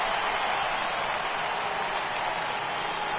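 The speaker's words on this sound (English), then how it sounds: "he receives a nice ovation from this home crowd" A home crowd gives a steady, dense ovation in a baseball video game, Giants at Astros, a continuous wash of applause with faint commentary underneath.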